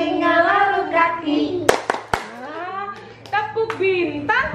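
Sharp hand claps ring out a few times, two close together near the middle, mixed in with a sung children's clapping chant in Indonesian. The voices carry throughout and the claps cut through the singing.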